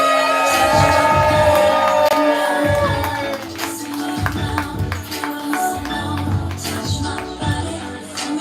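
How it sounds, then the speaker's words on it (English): At a live poetry slam in Houston, the audience cheers and shouts loudly, with whoops and a rhythmic clapping and stomping beat running under the crowd noise throughout. "Then you clapping, you building energy, you making all the noise for Kari"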